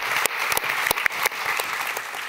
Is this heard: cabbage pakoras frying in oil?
no